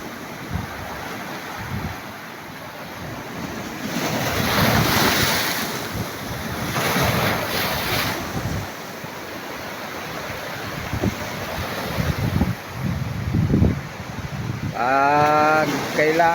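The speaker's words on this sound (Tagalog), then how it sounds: "Ganda tingnan ng ano, alon." Sea waves roll and break on Bangunay beach in steady loud surges, mixed with heavy wind buffeting the microphone, and a voice speaks briefly near the end.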